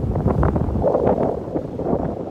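Strong wind buffets the microphone in a steady, roaring rush with gusty swells, loud and close throughout, at a small island in Brunei.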